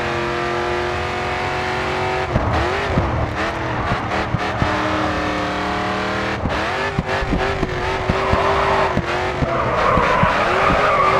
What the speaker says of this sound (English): You're carrying good speed into the drift.